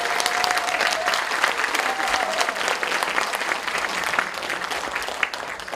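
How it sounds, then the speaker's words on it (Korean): An audience applauds warmly to welcome poet Na Tae-ju to a special lecture on life, literature and writing. The clapping is dense, sustained and close, with no talking over it. "큰 박수로 환영해 주시기 바랍니다"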